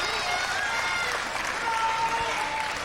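A wrestling crowd at a live Phoenix Championship Wrestling event cheers and applauds in a steady, roaring wash of noise, with whistles and shouts rising above it and a commentator talking over the top.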